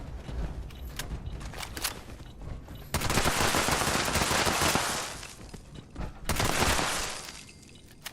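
Bursts of gunfire aimed at a mutant hound in Fallout 76 ring out loud and close, a few scattered shots first, then two long sustained volleys separated by a short pause.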